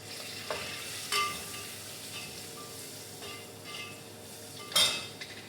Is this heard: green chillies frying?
yes